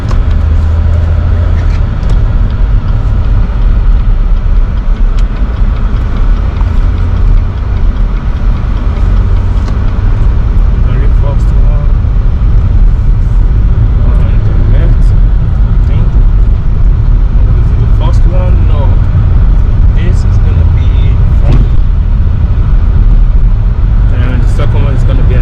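A car, its tag missing, driving along a city road with a loud steady engine and road rumble throughout, a bungee cord holding cargo down, and a voice talking over the noise.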